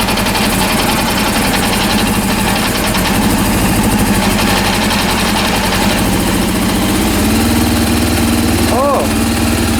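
A Honda CB400 motorcycle engine on a rebuild runs steadily at a loud, close idle, then climbs in pitch as the throttle is opened, a faint voice underneath.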